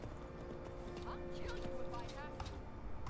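Horse hooves clip-clop at a steady pace in the video game Skyrim, the hoofbeats sitting under music with tonal game sounds.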